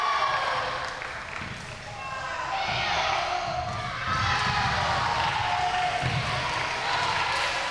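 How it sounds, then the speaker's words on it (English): Spectators at a school 'C' Division sepak takraw match, with the home side rallying, keep up a loud, continuous roar of cheering and shouting throughout, swelling in waves, with a commentator's voice mixed in. "And the crowd, they are going crazy for the home side."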